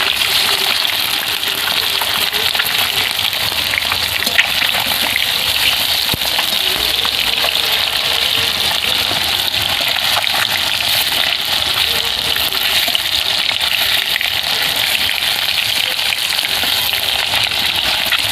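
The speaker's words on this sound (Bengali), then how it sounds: "অপর দিকটা উল্টে ভেজে নেব।" Snakehead (shol) fish sizzles steadily in hot oil in a pan, a dense, loud crackle running continuously with no talk, with faint scrapes as the pieces are turned over.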